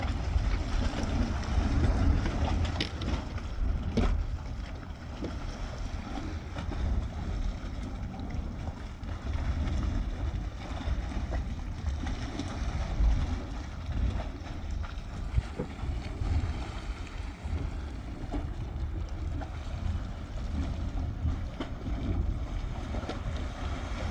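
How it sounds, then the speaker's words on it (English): Dragon Mouth Spring, a hot spring in Yellowstone Park, gives a continuous rumbling, churning roar of steam and water with low booming surges, heard up close and steady throughout, with wind buffeting the microphone. "So another section in this area, part known as Dragon Mouth Spring."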